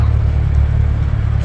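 A vintage American car resembling a Chevrolet Impala pulls in at an all-genre car meet in Nagoya, its engine a steady, close, low rumble throughout with no voices.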